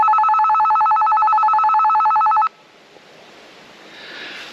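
A Retevis RT49P walkie-talkie's call button sends a loud, steady warbling electronic alert tone that lasts about two and a half seconds, then cuts off, leaving quiet outdoor forest ambience.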